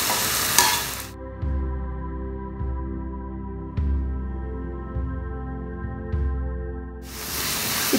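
Onions and paneer sizzle in a hot pan for a North Indian thali dish, with a steady frying hiss and a spoon stirring in regular strokes about every second, close and clear with no talking.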